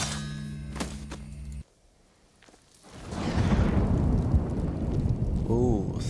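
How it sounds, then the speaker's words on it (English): Thunderstorm in the video game Ghost of Tsushima: after a tonal game sound cuts out and a near-silent gap, a thunder rumble swells into heavy rain that continues loud to the end. "Ooh, thunder. Look at that, it's storming."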